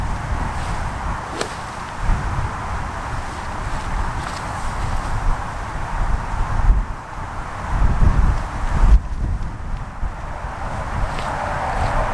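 Strong wind buffeting the microphone on a golf practice ground, a continuous low roaring rumble with gusts that swell and ease throughout, loud and close.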